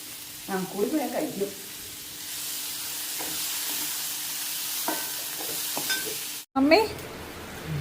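Mango pieces are stirred into a frying pan dish, with soft scraping strokes over a low, steady sizzle, a brief cut near the end, and a voice speaking faintly in the background.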